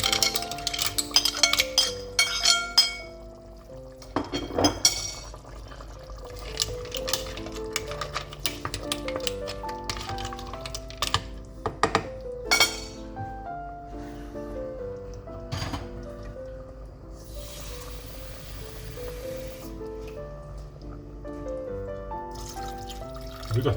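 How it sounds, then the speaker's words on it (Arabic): A glass of water is poured into a pot of quick seafood soup, giving soft trickling and dribbling with sharp glassy clinks and knocks, close and fairly quiet, with no talking. "نزيد واحد كويز الماء."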